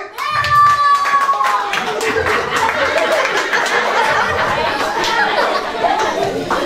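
Children at a boy's birthday party clap in a loose, uneven burst close by, while kids chatter, giggle and call out over and around the clapping throughout.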